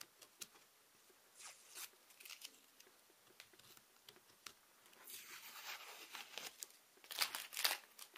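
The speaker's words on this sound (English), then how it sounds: "And you gotta peel all that off." Stencil tape being peeled off a spray-painted box, heard as faint, close, intermittent sticky rips and crinkles that grow into louder, longer tearing strips near the end, with no talk.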